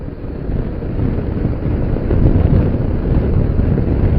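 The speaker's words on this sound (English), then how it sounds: "So it's windy today, but it's nice and mild" Strong wind buffets the microphone in a constant low roar while riding a motorcycle, gusting slightly louder midway, with no voices.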